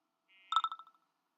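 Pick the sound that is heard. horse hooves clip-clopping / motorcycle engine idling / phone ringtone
phone ringtone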